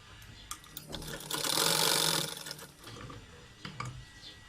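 A sewing machine stitches a hidden pocket into a salwar in one brief burst of about a second, fairly close. Quieter handling clicks and rustles come before and after it.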